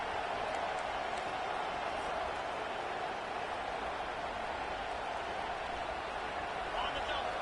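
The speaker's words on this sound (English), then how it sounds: "This crowd bringing the energy and noise early." Stadium crowd at a football game, a steady broad roar of cheering and noise, sustained and fairly distant throughout.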